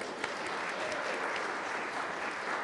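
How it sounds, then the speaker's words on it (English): A congregation at a church service applauds schoolchildren, a steady wash of many hands clapping at moderate distance, continuous and even throughout with no speech. "round of applause for those kiddos who are working really, really hard"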